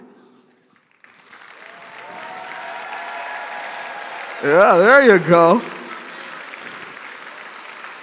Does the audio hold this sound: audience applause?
yes